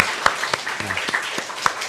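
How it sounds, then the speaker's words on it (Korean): A church congregation claps to welcome visitors, a brief burst of mixed hand claps with a few sharper, nearer hits standing out from the rest. "박수로 좀 환영하겠습니다"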